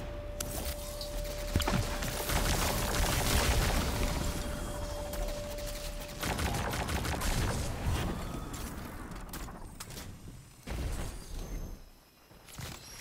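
Destiny 2 Vex enemies exploding amid dense gunfire, a continuous loud barrage of blasts, crashes and shattering debris with a steady tone running underneath, thinning out near the end.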